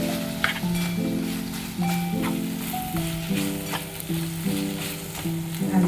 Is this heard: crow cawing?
no